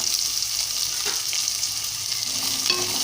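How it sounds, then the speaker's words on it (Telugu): Chopped onions fry lightly in a pan for an amaranth leaf curry, a close, even crackling sizzle with faint scraping of a spoon running throughout. "ఉల్లిపాయలు దోరగా వేగాలండి, కొంచెం లైట్గా వేగాలి"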